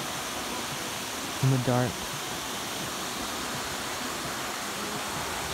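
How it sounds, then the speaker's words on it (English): Steady rushing of stream water at night, a broad continuous wash that fills the whole stretch, with a brief murmur of voices partway through. "I'm just listening to the water."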